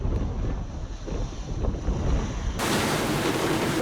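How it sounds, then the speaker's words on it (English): Boat heaving through big rolling ocean waves on a rough day, with continuous broadband wash of water against the hull and gusting wind buffeting the microphone, loud and steady throughout, no talking. "we still had big waves rolling us around"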